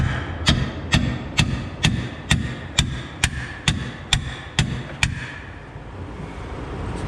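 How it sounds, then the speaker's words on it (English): Hammer strikes driving a part into place during a lift install on a Jeep XJ: about a dozen evenly spaced, sharp metallic blows, close and loud, with a steady beat before they stop. "Just hammer that in."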